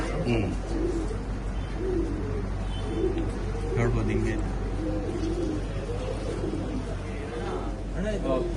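Pigeons coo in repeated soft, rolling phrases throughout, close by, while a person talks over them, in a pigeon loft in Shivaji Nagar, Bangalore.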